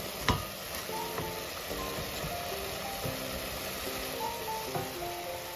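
Minced-meat meatballs sizzle steadily in a frying pan, a dense constant crackle with occasional scraping and knocks as they are stirred, close and even throughout.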